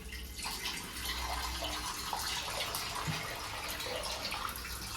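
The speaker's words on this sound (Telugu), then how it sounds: "మనం ఫస్ట్ బాండి తీసుకొని వాటర్ ఫిల్ చేసుకుంటాం." Tap water running into a pan for Maggi, a soft steady splashing flow that is faint and continuous, with slight changes in tone as the vessel fills.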